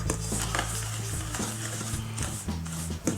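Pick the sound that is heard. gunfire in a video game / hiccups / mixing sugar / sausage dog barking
mixing sugar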